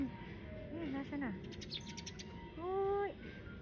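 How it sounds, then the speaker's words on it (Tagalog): Several birds chirp and tweet outdoors in Japan, a few short rising calls and a brief trill heard faintly over steady background noise. "Ibon! Ibon!"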